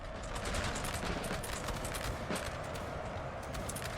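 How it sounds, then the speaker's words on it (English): Constant crackling rifle fire in a Napoleonic-era battle from Napoleon Total War, a dense rattle of overlapping musket volleys with sharp repeated bursts, steady and loud throughout. "where there's a constant rattle of rifle fire"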